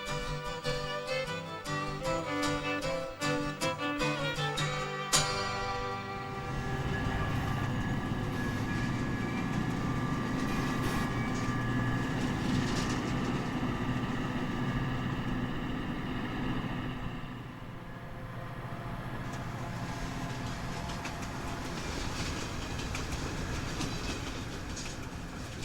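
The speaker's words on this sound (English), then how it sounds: "The train kept winding its way up into the far north of Scotland." A passenger train winding through the far-north Scottish highlands, heard from on board as a steady rumble with rhythmic clickety-clack of wheels over rail joints and a brief jolt partway through.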